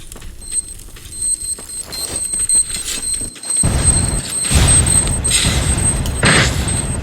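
Rapid bursts of shotgun fire from a Rapper shotgun in a shooter video game, loud and close, with repeated blasts over steady high-pitched game tones.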